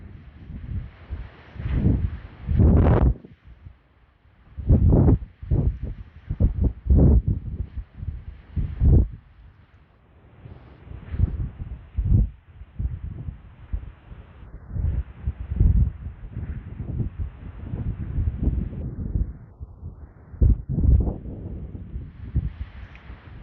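Strong wind gusts buffet the microphone on a high desert mountain ridge in Nevada, coming as irregular roaring bursts that swell and fade over more than twenty seconds with brief calmer gaps.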